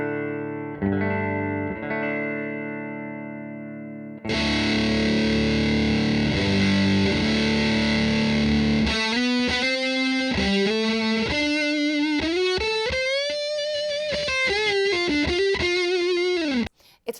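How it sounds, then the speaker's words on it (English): An Electro-Harmonix Deluxe Big Muff Pi fuzz pedal plays a heavily distorted electric guitar, starting with sustained fuzzy chords and moving into a loud, saturated lead line with bending notes. No voices are heard. "HX's Deluxe Big Muff is a reimagined version of the Big Muff Pi"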